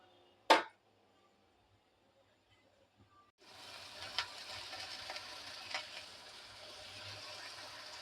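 Onions sizzling in a pan while cooking red leafy greens with garlic and tomato, a sharp clack at first, then a quiet pause before a steady moderate frying hiss sets in and continues.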